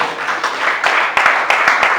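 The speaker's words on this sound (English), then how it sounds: "Please, a round of applause for them." Audience applause at a speech event, a dense patter of clapping hands with a few sharper, louder claps standing out, fairly close and sustained for the whole brief moment.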